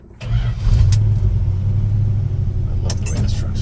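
A 1956 Ford F100 pickup with a 392 Hemi V8 cranks and fires into a loud, deep rumbling idle that holds steady close by, with a voice briefly audible over the engine.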